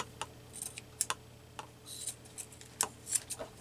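Several quick, crisp snips close by, scattered irregularly with short pauses between them, like scissors cutting through thin cheesecloth in a quiet room.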